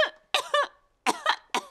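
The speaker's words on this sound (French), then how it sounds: "c'est à présent au tour des adultes d'attraper la toux de Pedro" Coughing from the Peppa Pig cartoon, a cartoon character's quick bursts of dry coughs in two separated fits, close and clear with no other sound.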